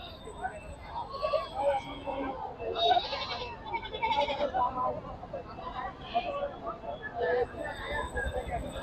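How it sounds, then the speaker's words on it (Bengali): Goats bleat at an outdoor livestock market, several scattered calls near and far over a bustling crowd murmur and voices. "দেখেন অনেক বড় বড় দেশি ছাগল দেশি বিদেশি ছাগল আছে আপনি দেখেন"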